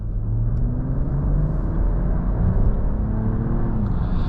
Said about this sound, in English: Let's just have a little acceleration here.